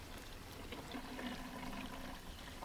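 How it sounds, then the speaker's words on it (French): Water poured into a Solvatten solar water-treatment container through its black-capped openings, a faint steady trickling fill lasting a few seconds, distant and low in level with no talk. "Stella commence à remplir Solvaten par les ouvertures, les bouchons noirs."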